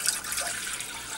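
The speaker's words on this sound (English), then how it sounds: "Pour 2 cups of water into the pot." Two cups of water pour into a 2-quart cooking pot, a brief steady splashing rush lasting just over a second, fairly close and alone.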